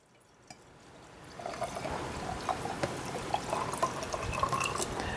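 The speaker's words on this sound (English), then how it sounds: "So let's give this a pour." White sangria pours steadily into a glass, a soft splashing trickle that builds after a quiet start, close and fairly faint.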